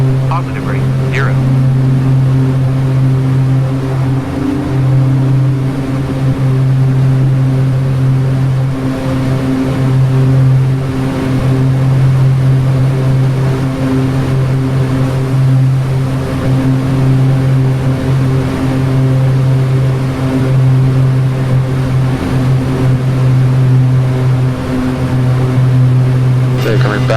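Twin turboprop engines of a King Air B200 at climb power in Flight Simulator 2004, a loud continuous droning hum with strong steady tones throughout.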